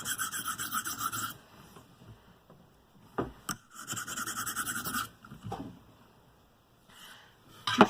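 A KME sharpener stone is drawn across the Sharpie-colored bevel of a CRKT S.P.E.W. knife, giving close, dry rasping strokes: one long steady pass, then shorter scrapes with pauses between them.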